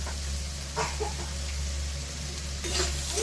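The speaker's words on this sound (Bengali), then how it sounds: "দিয়ে এগুলোকে একটু ভালো করে নেড়ে নেব" Dried lotte fish with chilli powder and mustard oil sizzles in a pan while being stirred, a steady low frying hiss with a couple of brief scraping strokes, close and without speech.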